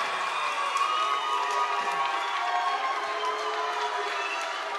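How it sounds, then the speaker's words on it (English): A boxing crowd at a Battle Arena light heavyweight British title fight, reacting with loud, steady noise and scattered shouts after a controversial decision, sustained throughout. "Some of the crowd are not happy."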